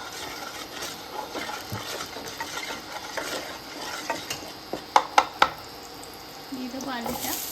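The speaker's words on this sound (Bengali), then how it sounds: "এবারে আলুটাকে একটু ফ্রাই করে নিতে হবে" Potatoes fry in a pan while being stirred, a soft sizzle under scraping, with a quick run of sharp utensil clacks against the pan near the end; faint talk in the background.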